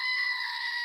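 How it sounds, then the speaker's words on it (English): A screaming goat sound effect: one short, loud, shrill bleating scream held steady for under a second. "If the screaming goat says so, it must be so."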